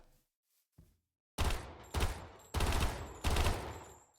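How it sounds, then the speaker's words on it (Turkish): An automatic pistol firing in modded Minecraft: four loud, close bursts of rapid fire, each trailing off briefly, after a short quiet lead-in with a faint click. "Tabanca tarıyor bu arada ilginç yapmışlar."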